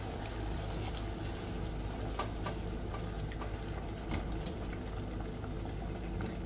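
Water added to soya keema masala frying in a pan, a steady bubbling sizzle with scattered crackles and pops over a low continuous rumble, close and constant throughout.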